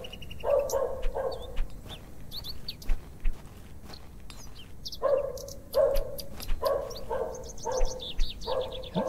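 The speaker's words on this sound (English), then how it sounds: "All I can hear is dogs barking." Distant dogs bark in the point-and-click game The Excavation of Hob's Barrow, several clusters of repeated barks separated by quiet stretches, with birds chirping faintly in the background.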